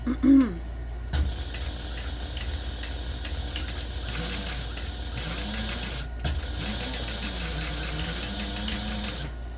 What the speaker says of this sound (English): I'm just going to kind of sew back over the part where I just seam ripped to reinforce that